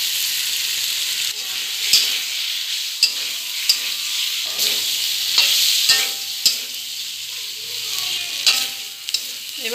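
Boiled potatoes and fried eggs dropped into a hot curry pan for a traditional egg curry, giving a loud, close, continuous sizzle with bursts of spattering and scraping stirs.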